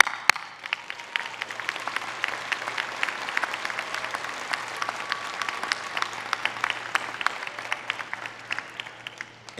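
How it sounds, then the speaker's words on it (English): Applause for graduates at a Muskegon Community College commencement ceremony, sustained clapping from a large audience in a hall, with individual sharp claps standing out over the steady wash. "I want everybody here to please join me in applauding their efforts"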